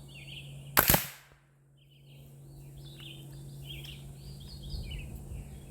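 An Umarex Air Javelin CO2 arrow gun fires once outdoors with a single sharp, loud pop. A faint hiss trails off after it, and birds chirp softly in the background.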